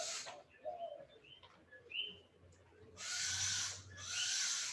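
Birds call and chirp in a lively outdoor chorus, with scattered whistles and two long bursts of dense, bright insect-like buzzing.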